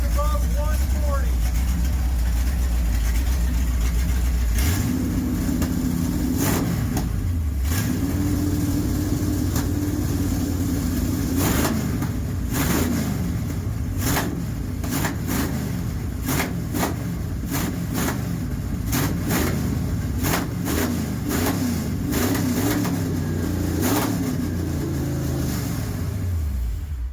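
A 440 big block Mopar V8 with a sticking throttle, running loud and close with a low rumble, then revving up repeatedly in uneven bursts with a hanging idle, someone talking at moments.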